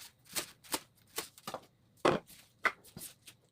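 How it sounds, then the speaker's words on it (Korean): A knife chops green onions into large pieces on a cutting board, giving about ten sharp, quiet taps at an irregular pace, close by with no talking. "쪽파는 이렇게 큼직큼직하게 썰어주겠습니다."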